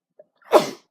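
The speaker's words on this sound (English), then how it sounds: "I'm trying not to sneeze, by the way." One close, sharp sneeze bursts out after a tiny catch of breath, loud and alone in an otherwise quiet room.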